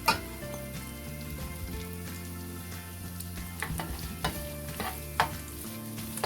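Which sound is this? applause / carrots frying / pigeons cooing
carrots frying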